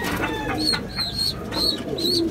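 Racing pigeons cooing close by, several soft repeated coos in a loose rhythm over a low murmur of background noise.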